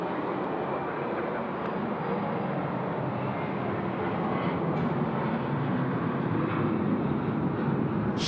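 A jet airliner roars on the runway at Sydney Airport at night, a loud continuous broadband rumble and whine that holds steady throughout, with no voices.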